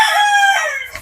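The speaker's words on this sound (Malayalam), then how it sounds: "പിന്നെ കോഴികൾ" A rooster at a family home lets out one loud, close crow, a sustained call that holds steady for about a second before breaking off abruptly.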